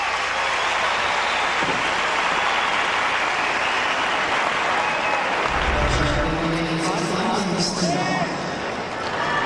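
Crowd applause fills a tennis stadium at a US Open match, a broad steady clapping heard continuously, with a commentator talking over it and a low rumble toward the middle.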